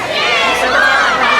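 Audience at an outdoor Lantern Festival concert in Yangmei cheering and shouting for a singer, a loud, dense wall of crowd noise with a host speaking over it.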